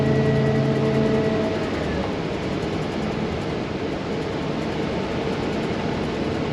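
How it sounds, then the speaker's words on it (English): A 2004 Holiday Rambler Vacationer 36DBD Class A motorhome cruising down the road, a steady loud broadband road and engine rumble with tonal hum fading after the first couple of seconds. "for a 19-year-old motorhome, this thing drives pretty darn good"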